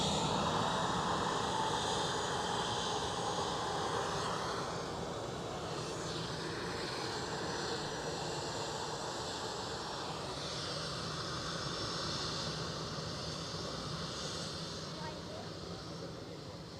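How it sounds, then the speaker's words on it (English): A British Airways airliner departs Edinburgh airport, its jet engines a steady, faint-to-moderate distant roar that holds for the whole stretch and slowly eases toward the end, with a voice talking over it. "British Airways next to go."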